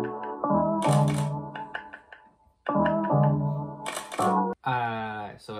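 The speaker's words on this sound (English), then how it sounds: "on Splice I found this whole like camera sounds pack" Camera shutter sounds from a sample pack fire as several sharp, broadband clicks, set among tonal, harmonic layers in a short, close, rhythmic sequence.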